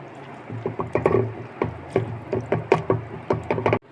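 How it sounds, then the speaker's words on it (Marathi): Pressure-cooked vegetables for pav bhaji mashed in a pot, a close series of uneven soft squelching thumps and scraping knocks in quick irregular rhythm, with no talk. "आता हे आपण मॅश करून घेऊया चांगलं."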